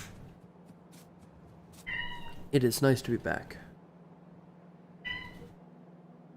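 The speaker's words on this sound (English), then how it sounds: "Oh, my cat wants to play." A pet cat meows a few times in short tonal calls, up close, while a person speaks nearby in a quiet room with a low steady hum.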